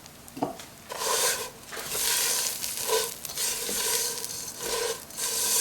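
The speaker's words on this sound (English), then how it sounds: "you're gonna roast this until you're gonna smell a really beautiful aroma" Dry vermicelli strands toast and stir in a hot pan for a sweet Eid dessert, a steady close rustling sizzle with repeated scraping strokes and a few light taps against the pan.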